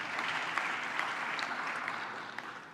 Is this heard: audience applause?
yes